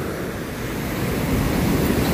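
Ocean waves churn ahead of an approaching typhoon, washing in bamboo and driftwood; a continuous, loud roar of surf mixed with wind buffeting the microphone, with no voices.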